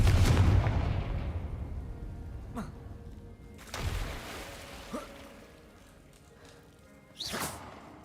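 Confringo fire spell blasts in the Hogwarts Legacy video game: a loud booming burst that decays slowly, followed by two more whooshing fiery impacts, with game ambience and a brief voice.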